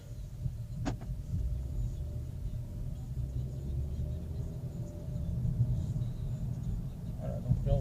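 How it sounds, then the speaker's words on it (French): A 2013 Skoda Octavia pulls away and drives off, heard as a low cabin rumble of engine and road that builds gradually, with a brief click near the start and faint noises late on. "Donc là, je démarre et je roule."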